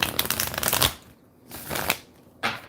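A deck of cards is shuffled during a tarot reading, giving several rapid papery riffling bursts with short quiet gaps between them, close and fairly loud, with no voices.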